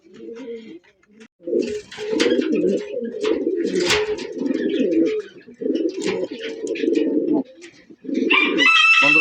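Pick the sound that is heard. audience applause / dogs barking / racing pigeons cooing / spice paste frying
racing pigeons cooing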